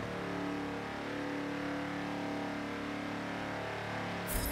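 A stock Dodge Challenger Hellcat SRT engine in Forza 7 holds a steady, loud, low mechanical drone throughout, with a brief sharper burst at the very end.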